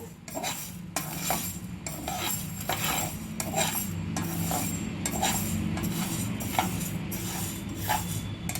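Fenugreek seeds dry-roasting in a pan for red chilli pickle, a steady close scraping and rattling of a utensil stirring the seeds against the metal, with regular rhythmic strokes throughout and no talk.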